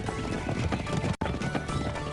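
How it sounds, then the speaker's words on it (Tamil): Seven horses run off, their hooves clip-clopping in a fast, steady, close patter that briefly cuts out midway and then resumes. "அங்க பாத்தியா 7 குதிரைகளும் கிளம்பி போய்கிட்டு இருக்கு"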